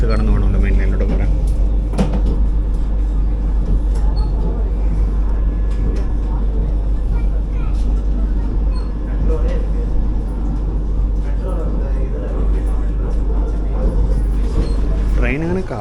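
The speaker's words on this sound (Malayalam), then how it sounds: "ഇതൊരു ലൂപ്പ് ലൈൻ ഡിപ്പാർച്ചർ ആയതുകൊണ്ട് പതുക്കെ ഡിപ്പാർട്ട് ചെയ്യുള്ളൂ" Vande Bharat Express 20628 from Nagercoil to Chennai Egmore, heard from inside an AC chair car, pulls slowly out over loop-line points with a loud, continuous low rumble and occasional knocks, with voices murmuring underneath.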